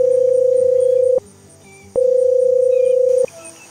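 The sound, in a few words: FaceTime call ringing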